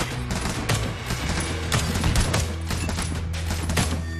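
Dense, continuous rattling blasts of bombs exploding in the Junkworld tower defense game, a loud rapid barrage of overlapping bangs that barely lets up, close and filling the whole stretch.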